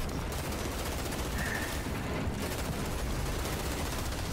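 Continuous rapid gunfire from the video game Outriders, a dense, steady wall of shots filling the whole stretch with no clear breaks.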